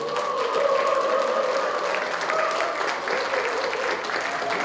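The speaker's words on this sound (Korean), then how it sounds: "여러분 박수 한번" An audience at a Rotary club founding anniversary ceremony breaks into loud, sustained applause, a dense wash of clapping filling the hall.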